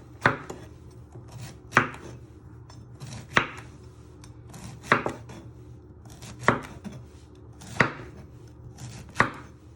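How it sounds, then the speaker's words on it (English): A knife slicing a halved vegetable for ratatouille on a cutting board, sharp chops every second or so, close and clear over a quiet background. "with the other half, you just want to slice it"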